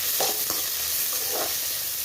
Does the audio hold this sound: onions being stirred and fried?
yes